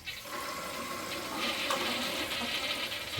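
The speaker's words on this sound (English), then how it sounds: "Give it a flush, see how it works." A toilet fitted with a Kaboom Scrub Free continuous-clean cleaner system flushes nearby with a steady loud rush of water that swells slightly and carries on through the clip.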